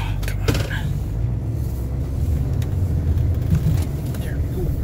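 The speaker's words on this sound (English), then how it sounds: "Haven't fired the red truck up in about a week maybe" A 2006 diesel pickup with an LBZ engine rumbles through a cold start, a steady low idle filling the background while people talk over it outdoors in the snow.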